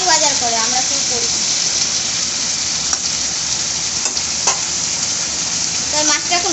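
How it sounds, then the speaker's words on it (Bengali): Pabda fish frying in a pan, a loud, steady broadband sizzle and crackle of oil that runs unbroken for the whole stretch, with a few sharper spits and pops rising above the hiss. "মাছটা ভাজা হোক, তারপর আমরা"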